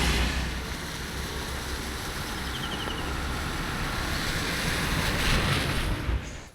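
Steady, loud rushing of wind with heavy rain outdoors near a market in Chattiparamba, a dense unbroken roar lasting several seconds with no voices.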